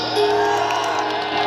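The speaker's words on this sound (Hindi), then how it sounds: "लखनऊ एक जोरदार तालियां" A university star-night concert crowd in Lucknow whoops and cheers loudly in a short continuous burst, a dense wall of voices with musical tones underneath.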